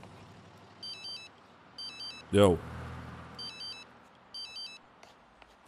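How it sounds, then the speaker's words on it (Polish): A phone rings in The Sims 3 video game, an electronic tone sounding in four repeated double bursts, with someone speaking briefly between the rings. "telefon dzwoni"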